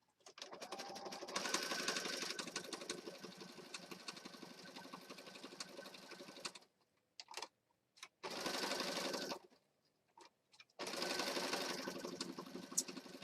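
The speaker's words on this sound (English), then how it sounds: "we're just going to stitch around the outside of the word here" A sewing machine runs steadily for several seconds while stitching around the outline of a word on a junk journal page, then stops and restarts in short bursts before a final sustained run.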